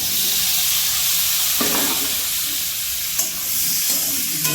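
Steady, loud sizzling of potatoes frying in a pan with red chilli powder, with a few scraping strokes of a spoon stirring them partway through.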